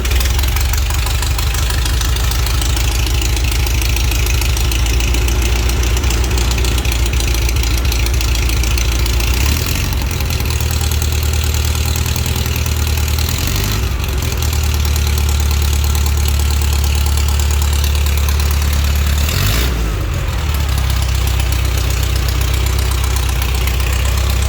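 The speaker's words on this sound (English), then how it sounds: "Let's give it a try." A pre-war Riley Brooklands car engine runs steadily at idle, a loud, close, continuous low throb with a few brief dips in rhythm and no talking.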